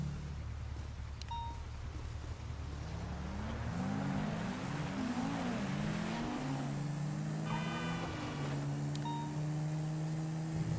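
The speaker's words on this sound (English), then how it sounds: "So we're just driving around talking with Chad" An ATV drives steadily, its engine droning and rising and falling in pitch as it revs, fairly close and continuous throughout with no talking.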